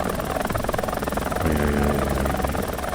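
A premium helicopter hovers in War Thunder, its rotor beating in a dense, steady, loud drone that fills the whole clip, with a low throbbing pitch settling in partway through.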